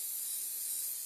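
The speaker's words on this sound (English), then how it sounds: "I'm going to spray that down," Plastic Dip Flat Crystal Clear coat sprays steadily from an aerosol can to seal paint on a Vengeance Jason piece, a continuous close, faint hiss with no break.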